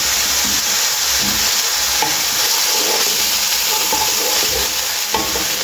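Potato pieces fry in hot mustard oil for a vegetable kadhi, a loud, steady sizzle running throughout with occasional soft stirring knocks and no voices.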